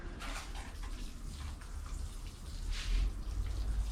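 Water pouring and splashing onto soil over newly planted potatoes in a garden plot, a steady gushing patter close by that swells slightly near the end, with no talking.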